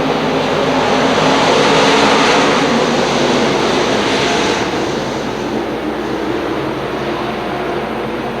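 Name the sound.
stock cars racing after green flag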